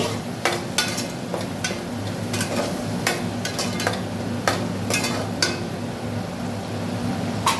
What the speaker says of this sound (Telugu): ఉల్లిగడ్డ మంచిగా ఎర్రగా వేగాలి.